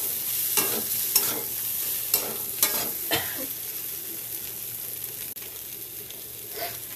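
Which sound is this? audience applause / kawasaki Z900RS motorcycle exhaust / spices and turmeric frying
spices and turmeric frying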